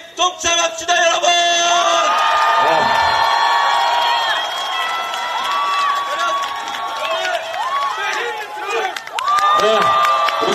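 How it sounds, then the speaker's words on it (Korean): Large outdoor political campaign rally crowd in Busan roaring with sustained cheers, whoops and high shouts, loud and dense throughout, with brief dips and swells of voices near the end. "4월 10일 우리 다 함께 승리의 함성에 동참합시다"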